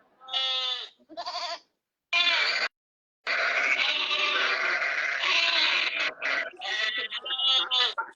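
A goat bleats several times in loud, close, wavering cries, with voices talking in between and over some of the calls.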